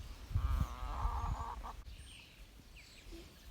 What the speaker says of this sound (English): our chickens seem pretty happy like this